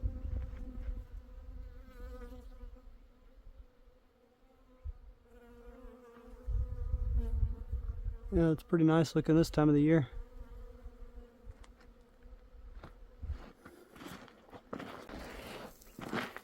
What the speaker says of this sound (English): You can hear the hum of all the bees on there.